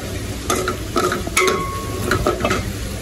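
Steady sizzling with repeated scraping strokes of a spoon stirring a spiced prawn mixture in a pan, close up, no voices.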